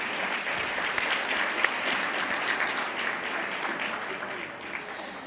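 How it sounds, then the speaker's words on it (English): Steady audience applause for sponsors at the Knight-Bagehot Program event, dense and fairly loud clapping that holds evenly throughout before easing slightly at the end. "Yes, and let's have a round of applause."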